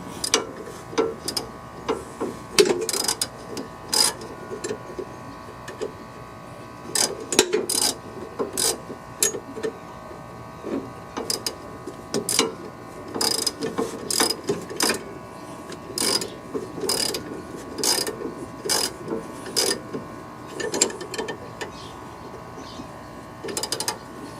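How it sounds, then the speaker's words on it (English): A ratchet works on a bolt of a Craftsman LT4000 riding mower, giving bursts of sharp rapid clicks in an uneven rhythm over about twenty-five seconds, close by and with no talk. "I'm going to tighten it back up."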